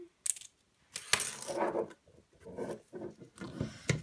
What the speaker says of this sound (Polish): Tą puszkę zaraz sobie otworzymy.